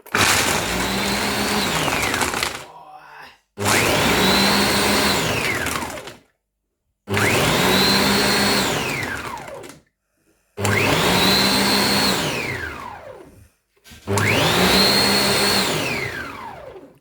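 A blender making a banana shake whirs loudly in five separate bursts of about three seconds each, its motor pitch dropping as it spins, with short silent gaps between runs.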